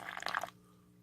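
Hot liquid is poured into a container in a short half-second splashing burst, then stops abruptly, leaving quiet room tone.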